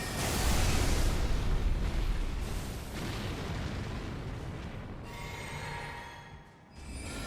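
Gravitational Missile spell impacts in Elden Ring, a heavy, continuous booming roar like rolling explosions that swells, dips and surges again, with a brief lull near the end.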